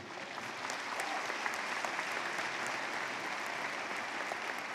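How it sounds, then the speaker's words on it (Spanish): A church congregation applauds steadily and loudly, dense sustained clapping filling the room for several seconds without pause. "Un aplauso Señor, por favor."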